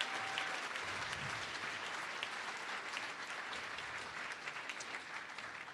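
Crowd at a Champ Camp fundraising event claps for pledges made, a steady, even wash of many hands that holds for nearly six seconds at moderate distance, with a few faint voices mixed in.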